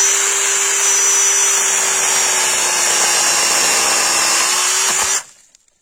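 A small chainsaw cuts a thin piece of wood in a garden, a loud, steady high-pitched engine whine sustained for about five seconds before cutting off abruptly into near silence.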